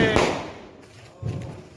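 Firecracker cannon going off during Diwali celebrations, a sharp, loud bang followed by a fading rumble and a second, duller thump about a second later.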